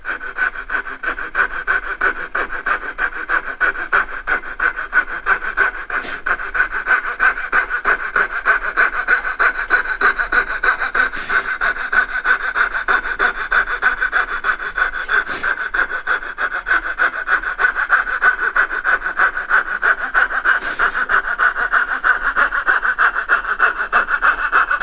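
A hand saw cuts wood for dovetail joints, with rapid, even back-and-forth strokes rasping steadily and close for about 25 seconds, without pause.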